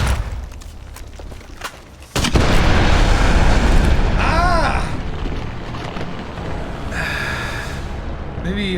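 A sudden loud blast in a video game set at Nellis Air Force Base bursts in after a brief lull, followed by sustained rumbling, crackling debris and a few whistling effects.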